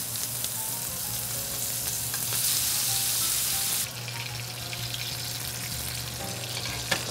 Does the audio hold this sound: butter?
yes